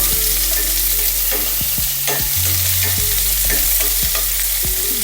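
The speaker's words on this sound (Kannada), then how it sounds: "ಫ್ರೈ ಆಗ್ತಿದ್ದಂಗೆ ಕಟ್ ಮಾಡಿ ಇಟ್ಕೊಂಡಿರ್ತೀವಲ್ಲ ಆನಿಯನ್ ಅದಕ್ಕೆ ಹಾಕೊಳ್ಳೋಣ" Chopped onion sizzles loudly in a hot pan with oil while a spoon stirs and scrapes it in repeated strokes, steady frying hiss throughout with no talk.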